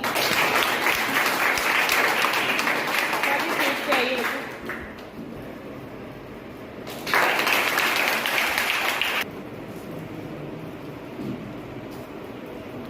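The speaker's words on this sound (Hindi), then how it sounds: "स्वाति, इसके लिए जोरदार तालियां।" Loud applause from students and guests at a school seminar on Chandrayaan-3, one long burst of clapping that drops away, then a second strong burst before dying down.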